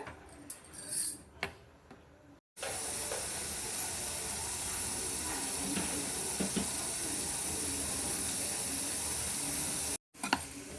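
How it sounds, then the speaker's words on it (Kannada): A pressure cooker on the stove hisses steadily with escaping steam while coconut milk rice cooks, a loud continuous whistle running for several seconds before cutting off abruptly. "ಎರಡು ವಿಸಿಲ್ ಆಗಿದೆ ಫ್ರೆಂಡ್ಸ್"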